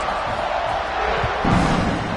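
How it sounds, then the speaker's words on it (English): A stadium crowd in the College Football 26 video game, a dense continuous roar of many voices swelling slightly toward the end, loud and without distinct individual words. "this crowd is buzzing after that last score"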